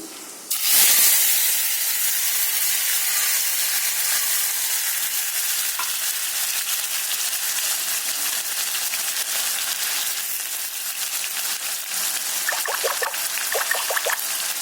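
Potatoes fry in a pan of hot oil, seasoned with five-spice (panch phoron), giving a steady, close sizzle and hiss that starts suddenly and holds. A few stirring scrapes come near the end, with no talking.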